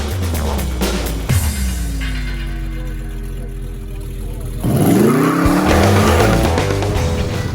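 Hot rods and custom cars cruise a boulevard after a car show, engines revving up and down with rising and falling pitch, one car roaring past loudly partway through amid other traffic.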